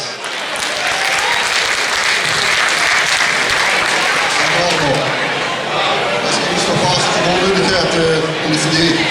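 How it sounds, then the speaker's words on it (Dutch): Loud, dense applause from an audience at a carnival prince evening fills the room steadily from start to finish, close and continuous, with some crowd noise mixed in. "Geef hem een applaus."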